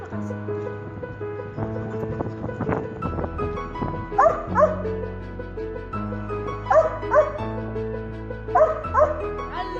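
A dog barks in short bursts during guard-dog training, with a few separate barks standing out over a steady background of tones and a voice.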